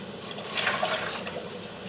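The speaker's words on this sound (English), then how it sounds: "so I'm going to drain the water real quick because the next step we're going to saute and we don't need water" Hot water drains out of an Instant Pot insert after spaghetti squash has been cooked, a steady close pour and trickle of liquid lasting a couple of seconds, with no talking.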